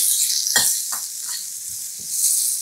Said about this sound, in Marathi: लाल भोपळ्याच्या फोडी छान शिजाव्यात पटकन म्हणून मीठ, तुपावर छान परतून घेऊया